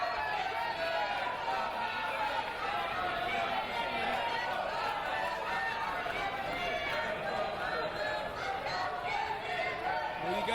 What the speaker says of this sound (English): you hear this crowd unglued